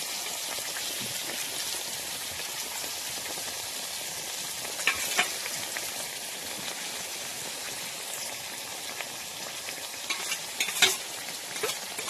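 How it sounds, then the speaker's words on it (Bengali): Vegetables and turmeric being stirred and sautéed in a pan: a steady, fine sizzling hiss with scraping stirs and a few sharper clinks, close and alone. "এবার নাড়িয়ে চাড়িয়ে শুধু কষাতে থাকবে"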